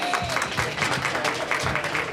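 Audience applause at an evening youth engineering event, welcoming a guest speaker to the stage. The clapping is steady and dense, with a faint voice or tone drifting over it.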